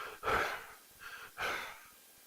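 A voice imitates labored, gasping breathing as a paramedic would hear from a sweaty, pale patient in respiratory distress: two heavy breaths, the first louder, heard alone and close.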